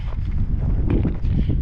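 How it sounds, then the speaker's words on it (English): Strong wind buffeting the microphone, a steady loud low rumble and roar throughout with no clear voices. "sorry about the wind, it's crazy windy."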